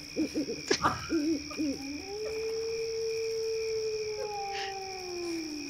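A dog howls in the video game Neverwinter Nights, a few short wavering yelps rising into one long sustained howl that slowly falls, loud and close, over a faint steady tonal background.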